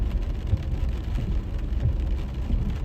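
Steady rain pours onto a city street while cars hiss past on the wet pavement, a dense continuous wash of patter with low rumbling traffic beneath it and no talking.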